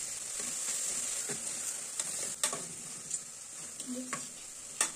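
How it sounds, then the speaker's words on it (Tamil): Curry leaves crackle in sizzling oil for a chicken curry, a close, moderate hiss punctuated by sharp pops and a few spoon scrapes against the pan, with no talking. "சிக்கன் கிரேவிக்கு தேவையான கருவேப்பிலை சேர்த்துடலாம்."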